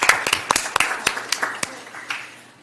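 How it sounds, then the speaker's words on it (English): Scattered clapping from a small group at a city council meeting, a dozen or so distinct sharp claps spaced unevenly and fading out toward the end, heard in a quiet room with no talk over it. "Oh, yeah, clap again."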